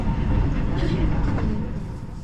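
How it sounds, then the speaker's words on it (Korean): Busan Metro Line 1 subway train running toward Nopo, a loud, steady rumble of the carriage with rushing noise and a faint higher whine, heard from inside at close range. "이번에는 버스가 아닌 노포 방면으로 가는 부산 도시철도 1호선을 이용했습니다."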